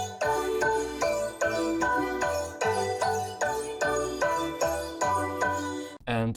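A colored bass synth patch built in Serum 2 with post-processing plays alone, a repeating rhythmic pattern of bright layered stabs over a thick low bass, loud and continuous, ending with a short rising sweep.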